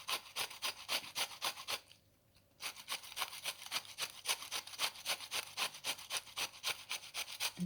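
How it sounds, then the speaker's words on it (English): Courgette is grated into a bowl in quick, steady rasping strokes, close and fairly soft, with one short pause near the two-second mark before the rhythm resumes. "My standard way is to just grate some courgette into the bowl"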